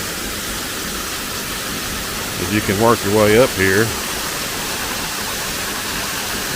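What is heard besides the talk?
waterfall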